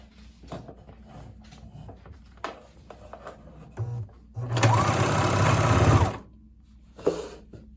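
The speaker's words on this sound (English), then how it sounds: "Once you have all 4 threads, you can press your pedal and chain." A four-thread serger runs fast as the pedal is pressed to chain off threads, giving a loud, steady mechanical whir of about a second and a half amid quiet handling clicks.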